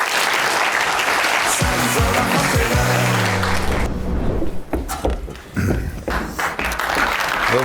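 A theatre audience at a comedy sketch show gives loud, dense applause for about four seconds, then it thins into scattered claps and stage noises.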